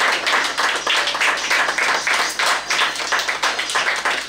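An audience at an accessories fashion show in Cotonou applauds the models, a sustained crowd clapping with a quick, rippling rhythm, loud and continuous from start to finish.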